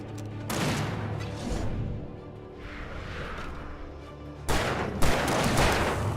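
Gunshots in the video game Alan Wake Remastered, a dense stretch of overlapping shots and blasts over a rumbling background, swelling louder toward the end.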